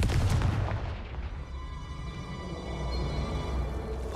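A Confringo fire spell blasts in Hogwarts Legacy, a heavy booming burst with a deep rumbling tail that fades over several seconds, loud and alone.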